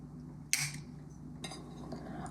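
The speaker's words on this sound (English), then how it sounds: "I'm going to break the eggs into the measuring cup." Eggs are cracked against a glass measuring cup in two short, sharp taps about a second apart, quiet and close, over a low steady background hum.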